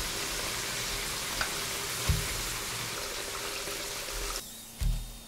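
Steady, close sizzling of potatoes frying in hot oil, with a couple of soft clinks of a utensil against the pan.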